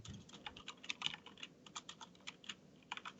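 Rapid, faint typing on a computer keyboard, irregular clicking keystrokes heard alone at close range.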